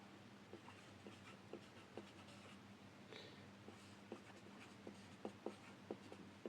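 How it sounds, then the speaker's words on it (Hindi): A name written out by hand, with soft scratchy pen strokes repeating in a loose rhythm, faint and close with no voices. "यहाँ मैं नाम लिख देता हूँ"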